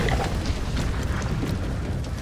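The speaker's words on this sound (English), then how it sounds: "First off, you're getting a nade." Grenade explosions and loud combat in Resident Evil Requiem, a dense continuous roar of blasts and rumbling debris with scattered sharp pops, loud and close throughout.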